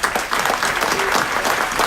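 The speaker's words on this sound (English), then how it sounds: "So let's give a round of applause for that." Attendees at a city council meeting give a round of applause, close, dense clapping that holds steady and fairly loud for the full stretch.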